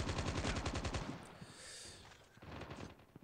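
Rapid automatic gunfire in the Call of Duty Mobile video game: a fast, steady burst of shots for about a second, followed by fainter echoing shots and a few scattered reports.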